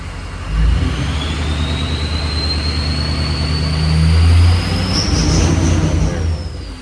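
A vehicle engine idles and runs unevenly with injectors 2, 4 and 8 misfiring and crank and cam circuit faults, a steady low drone with a faint whine rising above it.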